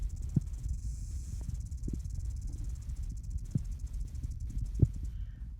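Rattlesnake rattling about five or six feet from a parked van at a campsite, a steady dry buzzing hiss with a few brief louder clicks, heard alone with no talking.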